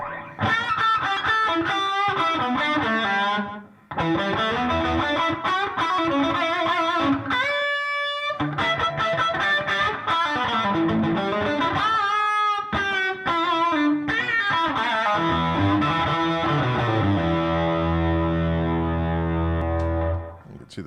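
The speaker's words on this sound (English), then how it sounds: "I like to just turn the reverb off and put just a slapback delay in." Electric guitar with a short slapback echo, playing chords and melodic runs with sustained, effected tones, loud and continuous with a brief pause.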